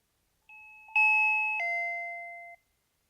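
A SwitchBot video doorbell with a display sounds a clean electronic chime, two bright ascending-descending tones ringing out in quiet surroundings and fading after about two seconds.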